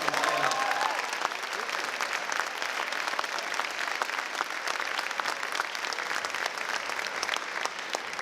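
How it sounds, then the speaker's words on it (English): Banquet crowd at a high school fall sports awards night gives sustained applause for an undefeated JV tennis team, a steady wash of many hands clapping with a few whoops near the start. "JV team should get a big round of applause."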